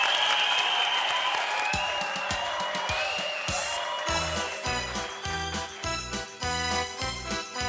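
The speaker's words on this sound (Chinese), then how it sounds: "来， 掌声鼓励" A live audience at a community comedy variety show claps in a dense round of applause that fades as a rhythmic music intro with percussion begins, all at a moderate distance.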